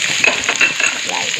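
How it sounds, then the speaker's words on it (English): Onions sizzle and fry with garlic and ginger in a pan, a close, steady crackling hiss broken by scraping as the mix is stirred. "We're going to really fry it up"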